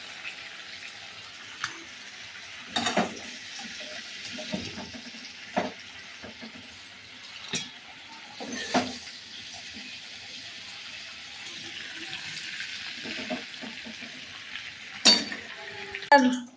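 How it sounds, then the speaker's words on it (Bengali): Crabs and potatoes frying in hot oil in a pan, a soft sizzle broken by repeated clinks and scrapes of a utensil against the pan, with a person talking at times. "কাঁকড়াগুলো ভাজা হয়ে গেছে, আমি কাঁকড়াগুলো এবারে এই আলুর সঙ্গে তুলে নিচ্ছি"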